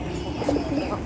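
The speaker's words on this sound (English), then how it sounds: "pigeon" A pigeon coos softly in a brief, low burble, close up and alone.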